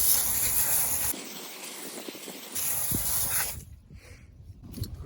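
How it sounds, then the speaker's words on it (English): Mother's CMX ceramic spray coat misting onto a car wheel: close, steady aerosol hissing in two bursts separated by a short pause, then quieter handling noise. "So let's give it a spray and see if it cleans that off at all."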